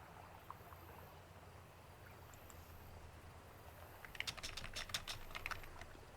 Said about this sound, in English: Can you hear my clicky clicky, my soft clicky keys?